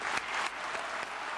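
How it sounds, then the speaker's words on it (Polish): An audience at a Hall of Fame induction ceremony applauds in a dense, steady burst of clapping at moderate distance, with no talk over it. "dlatego chciałbym poprosić was o brawa dla nich wszystkich"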